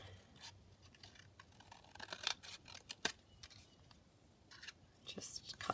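Scissors snipping through a paper banner, quiet crisp cuts coming in short irregular bursts, close up with soft whispery background.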